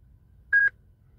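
A Tech2 diagnostic tool gives a single short, clear electronic beep during initialization, heard alone against a faint low hum.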